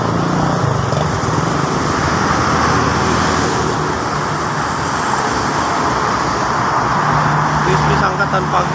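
Steady road and traffic noise from a car driving on the Jakarta-Cikampek toll road during the rainy season, a continuous broad roar with passing vehicles throughout and faint voices talking underneath.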